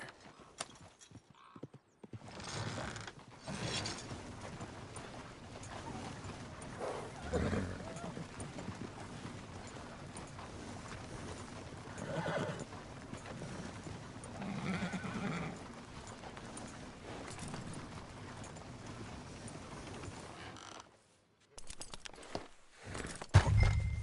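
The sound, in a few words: horse hooves and neighing in video game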